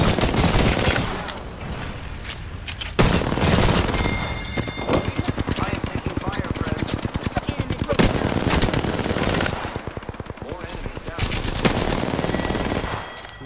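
Rapid automatic gunfire in the Apex Legends video game, with long loud bursts of evenly spaced shots and a few pauses, heard with game voices and talk over it.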